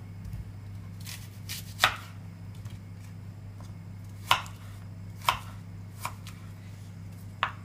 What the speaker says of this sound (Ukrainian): ось так ми ріжемо цибульку нашу